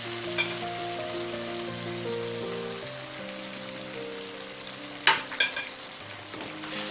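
Mutton kadai sizzles steadily in a pan as it is stirred, a constant frying hiss over a sustained tonal drone, with a couple of louder scrapes near the end.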